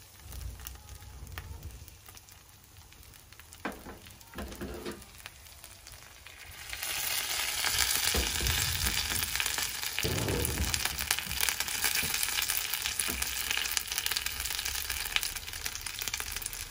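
Gyoza dumplings sizzling in a pan as oil is added over low-medium heat: quiet crackle and faint ticks at first, then a loud, steady frying hiss bursts in around seven seconds and continues to the end.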